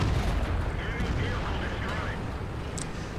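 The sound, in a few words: tank cannon kill shot in World of Tanks video game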